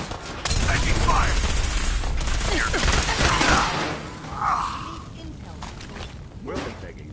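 Burst of loud close gunfire from Fallout 4 combat in the opening seconds, dense rapid shots that thin out into scattered impacts and clatter, with shouted voices over the fighting.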